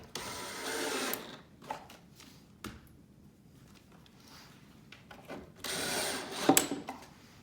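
A power driver runs screws into pre-drilled pocket holes in a wooden corner bench, with two loud whirring bursts at the start and end, brief clicks and knocks between them, and quiet pauses.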